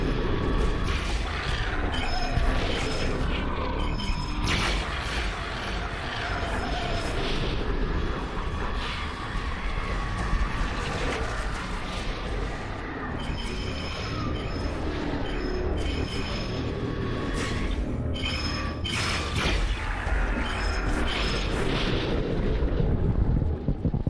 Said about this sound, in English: I just love the sound that the second weapon upgrade creates as you shoot it.